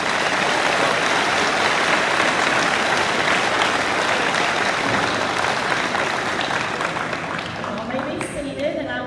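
Audience applause at a high school awards day honoring students, a dense, loud and sustained clapping from a large crowd that carries steadily before thinning out at the very end.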